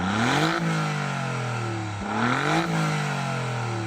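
An Alfa Romeo Giulia engine revs hard twice toward the redline in race mode, pitch climbing steeply then dropping before climbing again, loud and close with a raspy mechanical edge.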